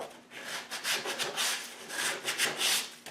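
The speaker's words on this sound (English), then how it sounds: "Begin by first sanding the slots to make sure there's no sawdust left in there" Sandpaper rubs inside the cut slots of a turned wood egg, a close, continuous scratchy rasping in quick uneven strokes, with no talking.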